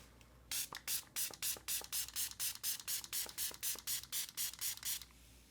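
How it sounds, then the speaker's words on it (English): A Delba spray bottle pumped repeatedly to mist a makeup sponge, about fifteen quick, even sprays in a steady rhythm, close and crisp, with no talking. "I'm gonna rehydrate my Delba spray."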